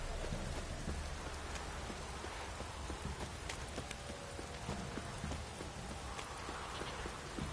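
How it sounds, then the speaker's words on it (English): Steady rain falls in The Witcher 3 Wild Hunt, a constant faint hiss with scattered drip ticks, while horse hooves clip-clop softly underneath. "Don't stop raining, my arse will rot off."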